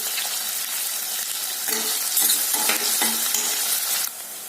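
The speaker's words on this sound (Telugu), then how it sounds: "కొంచెం బ్రౌన్ కలర్ వచ్చే వరకు వేగనివ్వాలి ఇందులో ఒక త్రీ టు ఫోర్ చిల్లీస్ తీసుకున్నానండి" Chillies and onions fry in hot oil for a goat leg curry, a loud, dense sizzle with a spatula knocking and scraping the pan in uneven strokes, close up and without voices.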